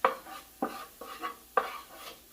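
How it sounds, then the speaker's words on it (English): A spoon scrapes through flour and hot oil as a roux for gumbo is stirred, in four or five distinct strokes with short gaps between them, close and fairly quiet. "what I do is I get that flour in there and I stir it"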